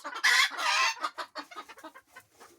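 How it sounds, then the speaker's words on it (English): Chickens cluck close by in a flock with many roosters, a loud burst of squawking calls up front that breaks into a run of shorter, softer clucks. "we have too many roosters in this bunch"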